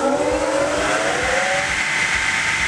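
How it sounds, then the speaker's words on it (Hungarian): An EUROKOMAX MS700 wet brick saw motor spins up, a loud, steady mechanical whine whose tonal harmonics climb in pitch early on and then hold at a continuous running drone. "felpörög a motor"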